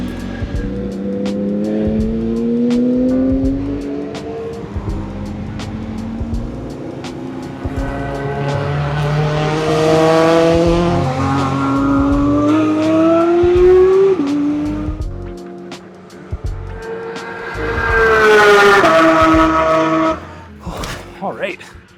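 A VW MK8 GTI with a Unitronic Stage 1 tune laps the Mission track, its engine loud and close as revs sweep up and down through gear changes, with brief tire squeal and a voice talking over it.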